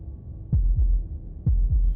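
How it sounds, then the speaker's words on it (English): Video game heartbeat from Slay the Princess: two loud, deep lub-dub beats about a second apart, thumping in the foreground over a low ambient drone with no talking. "That was the sound of a heartbeat,"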